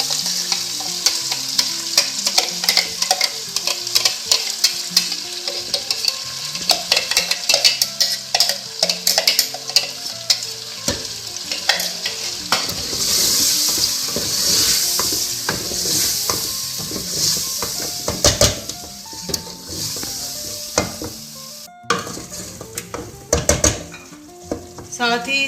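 Chicken with paste stir-fried in a pan, loud sizzling under repeated scraping stirs and metal utensil clanks against the pan, the frying hiss swelling midway and staying close throughout.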